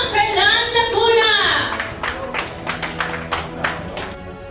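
Applause from a pageant audience at the Mister and Miss Homeland Philippines 2023 coronation night. After a voice calls out, claps come in uneven bursts, moderately loud and fairly close.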